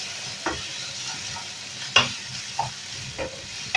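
Olive oil heats and sizzles in a frying pan, a steady soft crackle broken by a few sharp pops and stirring clicks, close and fairly quiet with no talking.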